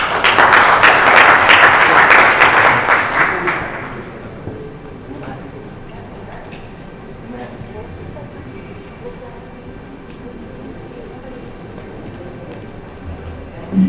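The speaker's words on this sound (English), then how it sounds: "Give him a round of applause, please, one more time" Audience applause for a speaker at a banking and FinTech talk, a loud burst of clapping that fades after about four seconds into quiet room noise.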